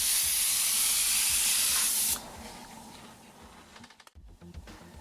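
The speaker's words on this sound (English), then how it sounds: "It's a nice wide spray, very easy to do." An airbrush sprays paint in a loud, steady hiss for about two seconds, then cuts off, leaving a softer hiss and small handling noises, with no talking.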